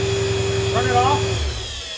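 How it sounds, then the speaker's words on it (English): A car's tandem pump whines with a steady tone while the engine idles during valve block repair work, the whine cutting off as the engine shuts down, heard close in a workshop. "What's that noise? It's the pump."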